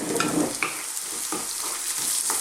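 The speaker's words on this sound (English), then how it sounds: "let's throw them around in the pan, non-stop, for about another 90 seconds" Small-cut potatoes fry with minced beef in a pan over lively heat, a loud, dense sizzle broken by the scrape and clatter of stirring as the pieces are tossed about, no talk.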